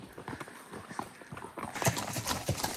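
A mule's hooves clip-clop on a Montana mountain trail, with steady overlapping hoof strikes close by and rustling trail noise, growing slightly louder toward the end.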